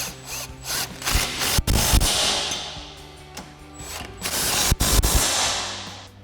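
An impact wrench with a 17mm socket tightens bolts on a bull bar with skid plate on a 2007-2021 Toyota Tundra, making loud close rattling bursts separated by short pauses and sharp clanks.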